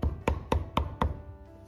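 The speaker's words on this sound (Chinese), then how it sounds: "切好后如果感觉偏粗的一定要剁细一点" Five sharp, evenly spaced knife chops strike a cutting board in close succession as pork is minced, then the sound fades out, with no talking.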